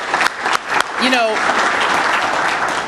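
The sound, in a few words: audience applause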